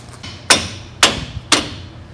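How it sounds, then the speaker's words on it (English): A hammer strikes a part on a worn-out Chevy Silverado engine in a shop. Three sharp, loud, ringing metallic blows land evenly about half a second apart. "hit it with a hammer"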